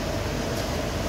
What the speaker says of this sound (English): So you've got your pump on.